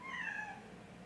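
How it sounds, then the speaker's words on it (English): A single drawn-out meow, fairly faint and somewhat distant, with no other sounds around it. "that would be one of my cats meowing"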